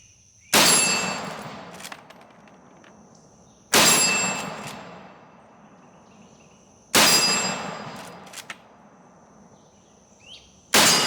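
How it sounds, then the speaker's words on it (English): Four loud, sharp shots from a Marlin lever action rifle chambered in .308 Marlin ring out outdoors, spaced about three seconds apart, each followed by a fading echo, with quiet pauses in between. "But let's do some shooting after I get my ears in."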